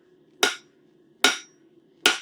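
Three sharp, ringing hammer blows on hot angle iron being flattened, evenly spaced and loud, each one decaying quickly into near silence.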